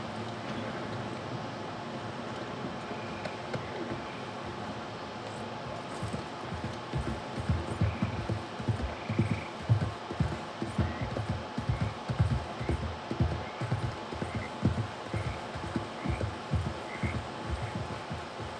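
Steady rhythmic clip-clop of horse hooves trotting at a moderate pace in the video game Red Dead Redemption 2, fairly close, over a constant low background hum.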